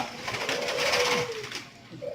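A zebra dove (perkutut) of the moka variety at a bird breeding farm in Jatibarang, Indramayu, gives a soft cooing call, fairly close but faint over steady background noise.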